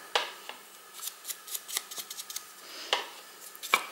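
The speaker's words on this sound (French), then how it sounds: "Vous pouvez aussi, si vous voulez, avec les ciseaux, abîmer les bords." Scissors scrape and snip repeatedly along the edges of a vintage-style paper card to distress them, producing a quick, irregular series of close, crisp rasping cuts with no speech.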